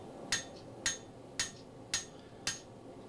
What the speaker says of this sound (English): Keeps me from hitting the anvil directly with the hammer when I go that thin.